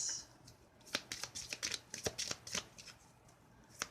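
Tarot cards shuffled close at hand, a quick series of crisp riffling snaps and soft slides, fairly quiet and irregular.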